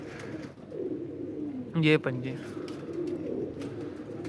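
A golden breeder pigeon with yellow eyelids gives a brief coo partway through. Someone talks over a steady background hum before and after it.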